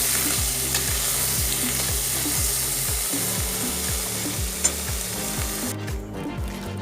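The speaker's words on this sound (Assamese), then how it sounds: "ইয়াত মাছ ভজা হৈ গৈছে।" Small fish frying in hot oil in a pan for an Assamese fish curry, a loud steady sizzle with regular scraping strokes of a spatula and no talking.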